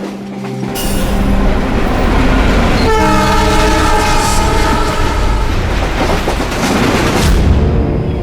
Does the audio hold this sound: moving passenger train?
yes